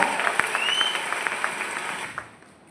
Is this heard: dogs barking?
no